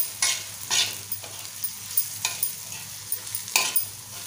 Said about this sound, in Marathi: छान परतून घ्यायचं आपल्याला